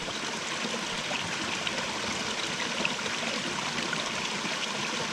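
A mountain forest stream flows down over rocks, a steady, close rushing and trickling of water with no break and no voices.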